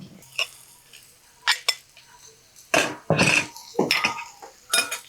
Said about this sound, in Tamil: இப்போ வெங்காயத்தை போடுவோம் வெங்காயம் போட்டாச்சு இனி வந்து நாங்கள் பச்சை மிளகாயம் போடுவோம்